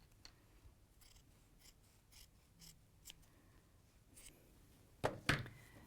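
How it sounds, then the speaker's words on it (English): Scissors cutting off a piece of quilting fabric, a few faint snips early on, then two louder close cuts near the end, with no talk. "let's just cut that piece off as well"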